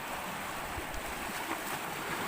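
Open sea heard from a moving boat, a steady broadband wash of water and wind rushing past with no distinct wave breaks, constant and fairly loud with no talking.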